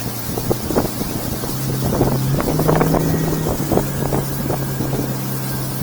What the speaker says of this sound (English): Not even 2 seconds to plane this boat.